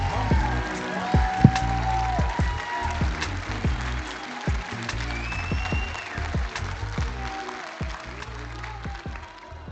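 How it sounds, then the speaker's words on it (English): A conference audience applauds at length as the opening keynote speakers leave the stage, dense clapping filling the hall at moderate volume with a few sharper claps standing out. "Let's keep that applause coming as they exit the stage."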